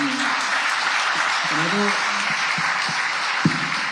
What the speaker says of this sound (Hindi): एक बार तालियां तो बनती हैं.